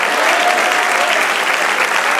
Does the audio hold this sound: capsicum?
no